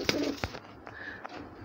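A newly caught pigeon coos softly and briefly at close range, a few low throaty pulses against light background noise.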